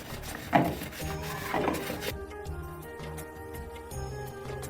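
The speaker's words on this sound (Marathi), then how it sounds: "ह्याला मी अगोदर स्टीलच्या काट्याने घासून घेते, म्हणजे हे सरपणार नाही" Steel wool scrubs a greasy cooking pot in a home kitchen, a close, steady rasping rub that swells twice early on, then settles into quieter scraping strokes.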